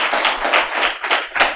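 An audience at a talk on video game theory claps after the introduction, a short burst of brisk, close hand claps in pulsing waves that rise and fall, with no voices.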